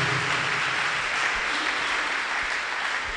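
A church congregation claps in praise during a testimony service, a steady, even roar of applause that holds at moderate loudness throughout with no talking over it.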